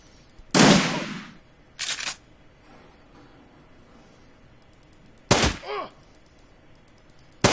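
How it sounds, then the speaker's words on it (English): Shotgun blasts in the turn-based RPG Shadowrun Returns, with a loud booming shot, a shorter crack, then another pair of heavy blasts several seconds later, separated by quiet gaps. "You can never go wrong with a shotgun."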